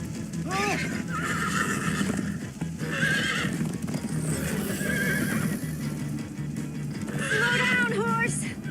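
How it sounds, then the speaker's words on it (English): Horses gallop and neigh in the video game Minecraft: Story Mode, steady hoofbeats running throughout with several loud whinnies rising over them, alongside voices. "Slow down, horse!"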